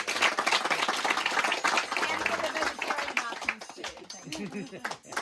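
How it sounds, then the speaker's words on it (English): A small group at a Mara safari camp claps briefly in a loose, uneven patter, with voices and chatter mixed in under the clapping. "I think everyone deserves a round of applause."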